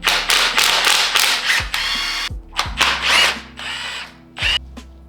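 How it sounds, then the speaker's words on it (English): A 1/2 inch stubby impact wrench rattles off bolts on a Nissan 300ZX Z31 engine in loud, close hammering bursts of about a second each, separated by short pauses and clinks. "No match against Mr. Stubby Impact 1/2 inch."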